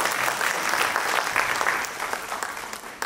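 Applause from an audience at an independence day celebration held at a medical college and hospital, a steady wash of many hands clapping that carries on throughout and fades slightly toward the end, with no talking over it.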